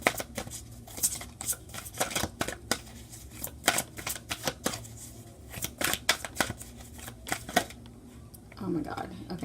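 Tarot cards are shuffled by hand in a run of quick, crisp riffles and slaps, close and fairly loud with short pauses between bursts.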